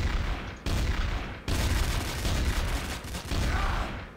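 Shotgun fire in a TTT match in Garry's Mod: loud, dense bursts of gunfire in several blocks broken by brief gaps, close and heavy, with no one speaking.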